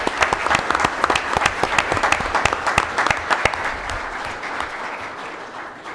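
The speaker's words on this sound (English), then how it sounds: "the Chief deserves a round of applause" Applause from a city council meeting audience honouring the police chief: crisp, rapid clapping from a roomful of people, strong at first and thinning out toward the end, with a voice briefly speaking over it.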